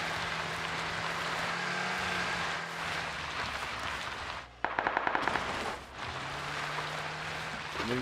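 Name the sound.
gunfire in the video game Arc Raiders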